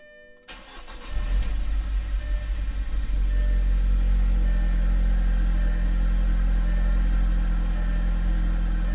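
An Audi engine, recently fitted with a new intake and diverter valve, cranks and catches, then settles into a loud, steady, smooth idle heard up close with no other sounds.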